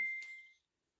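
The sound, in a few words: phone notification beeps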